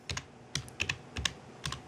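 Several quick keystrokes on a PC computer keyboard, typing a short command in irregular bursts of sharp clicks, close and fairly quiet with no voices.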